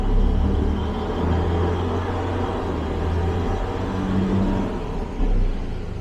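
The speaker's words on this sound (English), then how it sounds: "Let me give it a little bit of throttle here so we should see it increase." A Vanden Plas Double Six engine, a car with a faulty speedometer, runs with throttle applied, giving a steady low rumbling drone that rises slightly near the end, heard close and continuous without talk.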